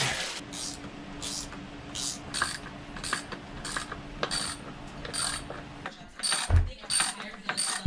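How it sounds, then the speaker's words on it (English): A ratchet wrench tightens a part during an air ride suspension delete on an Audi Q7. It gives repeated bursts of close, crisp clicking strokes, with a few heavier clunks near the end and no talking. "Now I just gotta tighten it till that gap goes away."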